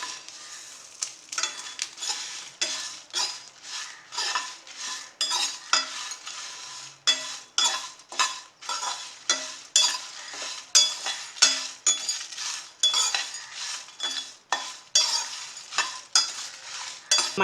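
Spices for mutton kulambu masala, with poppy seeds added last, being dry-roasted and stirred in a pan, giving a steady run of scraping, rattling stirs with a faint sizzle, close and without talk.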